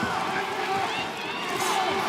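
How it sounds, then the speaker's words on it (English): Boxing arena crowd during round 9 of a fight, a steady wash of cheering and murmuring spectators filling the space, with a commentator's voice running over the top throughout. "The crowd getting more into the fight now"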